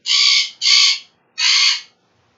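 Remy, a loud pet bird, gives three harsh, raspy calls close by, two in quick succession and then one more after a short gap, each followed by silence.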